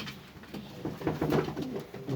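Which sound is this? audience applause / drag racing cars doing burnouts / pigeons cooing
pigeons cooing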